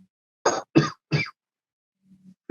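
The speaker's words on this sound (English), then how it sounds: "is that you coughing?" Three short, harsh coughs in quick succession, then quiet with a faint low murmur.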